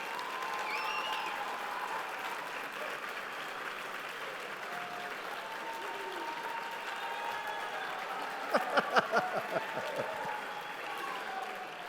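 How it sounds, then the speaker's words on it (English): A steady wash of crowd noise and murmuring at a KCRAR holiday party and awards event, with a short run of distinct, fairly close hand claps rising near the end. "Let's give them a big round of applause."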